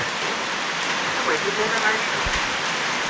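Steady rain from a typhoon hiss fills the background at a high highway campsite, a continuous wash of falling water with faint drips, no voices.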